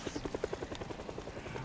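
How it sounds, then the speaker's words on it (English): A helicopter in the zombie survival game Project Zomboid thuds past with a regular, rapid rotor chop that holds steady and moderately loud, faint talk underneath. "you can hear the helicopter"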